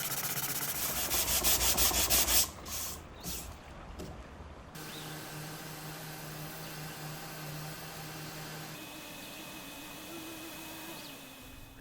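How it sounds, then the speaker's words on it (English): An 80 grit sanding disc works over a dresser drawer, giving a rough, buzzing rub with pulsing strokes at first, then the tool's motor whine carries on more steadily and quieter. "I'll sand the rest of the drawers with an 80 grit sanding disc"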